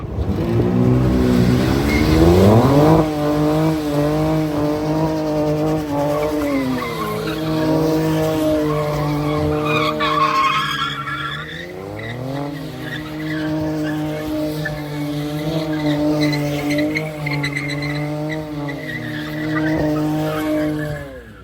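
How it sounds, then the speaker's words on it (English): A powerful 2026 Dodge Charger engine roars and revs continuously, tires squealing and skidding up close as it spins through burnouts and donuts, loud throughout. "see these things do some burnouts up close and personal and do some donuts"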